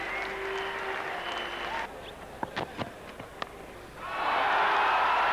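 A cricket crowd applauds Steve Waugh reaching 150 in a 1995 West Indies v Australia Test, with bursts of distant clapping either side of a quieter stretch of scattered claps and thuds.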